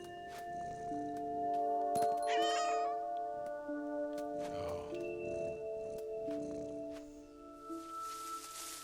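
Cat in What Remains of Edith Finch meowing repeatedly, drawn-out wavering meows up close over a sustained droning musical background, with no talking.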